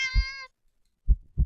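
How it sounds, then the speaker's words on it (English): In a horror video game, a cat gives a deep, drawn-out meow, followed after a short silence by two low thumping pulses like a heartbeat. "The cat meows at you again, but it sounds much deeper than earlier."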